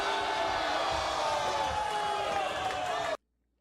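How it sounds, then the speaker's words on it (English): A crowd jeers and boos wrestler Dave Mack at a Second Life virtual wrestling show, a dense, steady wash of massed voices that cuts off abruptly near the end. "Some boos from the crowd for Dave Mack."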